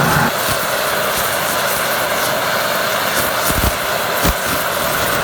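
A Steam Machete 30,000 watt steam cleaner runs at full power with a loud, roaring jet-like hiss, dense and unbroken, with a few faint knocks underneath.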